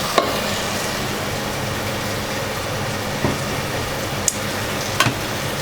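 Spring onion whites stir-fry on high flame for a Chinese-style chicken dish, a steady loud sizzle with a few sharp utensil clicks against the pan.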